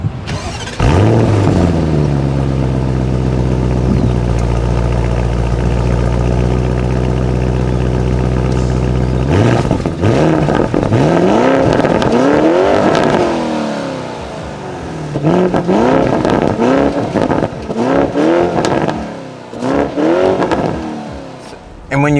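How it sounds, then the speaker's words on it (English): A 2021 Porsche Cayenne Coupe Turbo V8 starts, settles into a steady idle, then revs hard repeatedly with rising and falling sweeps. It is loud and close, with no speech over it. "this has arguably one of the best new sounding production V8s on the market today"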